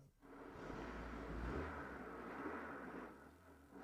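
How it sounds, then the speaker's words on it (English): A car engine running on E85 ethanol after 62,000 miles idles steadily with a low, even rumble and a mild whir, running smoothly without knocks or misfires. "The engine is running perfectly"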